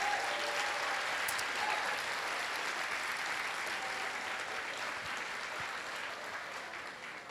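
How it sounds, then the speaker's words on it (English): A large standing audience at a 2013 culminating event gives a sustained round of applause, dense and steady throughout, fading slightly toward the end. "So I want you to all stand and just give them a round of applause."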